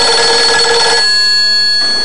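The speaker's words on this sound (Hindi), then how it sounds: "जाओ सुनो किसका टेलीफोन है" A telephone rings loudly and close in a home, one bright electronic trill that stops abruptly, with a short gap before it sounds again.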